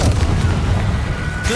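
Confringo blasting spell from Hogwarts Legacy, a single deep booming explosion held loud and close through the moment, with a low rumbling body and a brief crackle of spell energy near the end.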